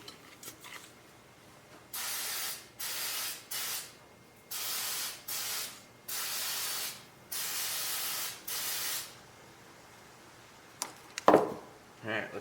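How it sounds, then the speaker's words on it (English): Several bursts of spraying hiss, each a second or so long, repeat in an uneven rhythm as a part of an old Ferris 61-inch riding mower is sprayed down, followed by a few clunks. "we're going to have to spray that down"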